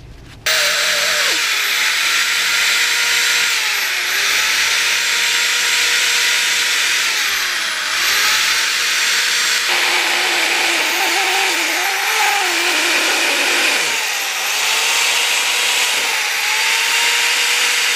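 A drill fitted with a flap wheel sands a motorcycle wheel steadily and loudly, its grinding whir holding almost unbroken, with slight changes in pitch as the pressure shifts.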